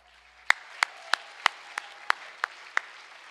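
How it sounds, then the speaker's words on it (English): At a high school football banquet, a single pair of hands claps eight times at an even, moderate pace, each clap crisp and distinct against a quiet room. "Give them a round of applause."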